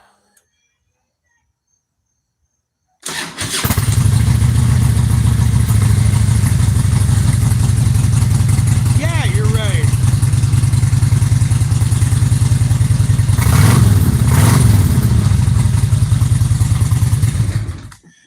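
A Kawasaki Ninja 250R motorcycle engine fires up abruptly after near silence and runs as a loud, steady, buzzing drone for about fifteen seconds, then cuts off, with a brief voice over it.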